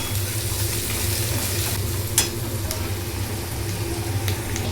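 Vegetables with turmeric and chilli powder sizzling in a pan as they are stirred, a continuous close frying hiss with a low hum beneath and occasional sharp scrape or clink from the utensil.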